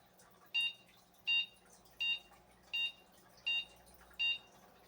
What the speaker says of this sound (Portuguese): 6 bips curtos.